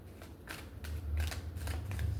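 Tarot cards shuffled by hand in short rhythmic riffles and soft papery slides, close and quiet, over a low background hum.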